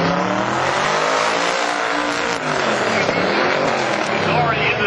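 A modified 1996 Impala drag race car makes a loud, continuous engine roar at full throttle, with harsh harmonic buzz and shifting pitch as it runs down the strip.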